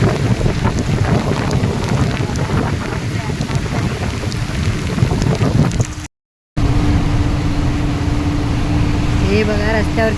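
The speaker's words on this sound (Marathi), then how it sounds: "केवढा पाऊस पडतो याचा अंदाज येतोय आपल्याला ना" Heavy monsoon rain in Parshuram Ghat on the Konkan coast, a dense loud roar of rain and rushing water heard from a moving car, with voices talking over it and a brief cut partway through.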